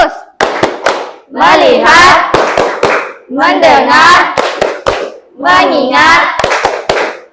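Sharp rhythmic hand claps from a classroom of Indonesian middle school pupils doing a clap chant, loud and close, sounding in quick bursts between and under children chanting words together.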